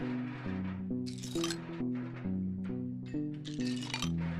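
Ice cubes clinking and rattling as a priest scoops some up, with bright, glassy chinks in several quick bursts over a low, steady drone.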